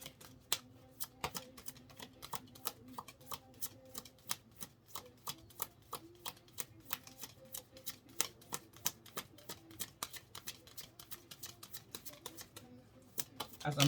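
Rapid, irregular clicking and flicking of stiff cards being shuffled, close and crisp, continuing steadily with no talking.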